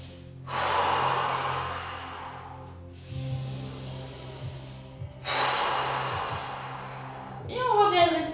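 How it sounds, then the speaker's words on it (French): Long, forceful exhales through the mouth during a hatha yoga breathing practice, three drawn-out breaths separated by pauses, close and clear with a faint low hum beneath. "On expire tout par la bouche. On continue."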